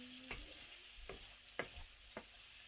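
Chicken for chicken rolls frying in a pan, with a steady quiet sizzle broken by four sharp stirring scrapes and taps.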